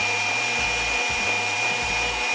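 Pumpkin roll batter is mixed briefly with an electric hand mixer, giving a steady, close motor whine with a few short dips in speed and no talking.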